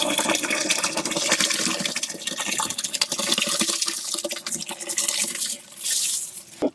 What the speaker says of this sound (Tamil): சீரக சம்பா அரிசி 4 கிலோ போடுறோம்ப்பா.